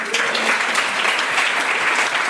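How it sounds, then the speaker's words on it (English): A live audience at a comedy podcast event applauds, a loud, even wash of many hands clapping close by and sustained throughout, with no speech over it. "Let's give him another round of applause."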